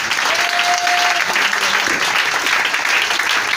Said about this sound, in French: Acclame-le ce matin.